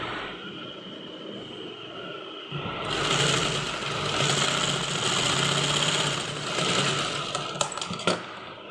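A sewing machine folds and stitches kurti fabric, its motor starting up and then running in a loud, steady mechanical whir for several seconds, close by, with a few clicks near the end.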